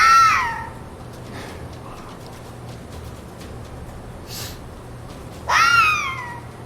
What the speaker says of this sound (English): I don't know, but it's a cat.